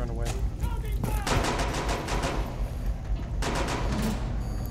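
Gunfire rings out in Rainbow Six Siege during a Yacht team deathmatch hostage match, with several sharp shots and bursts spread across the stretch over a busy, noisy game background.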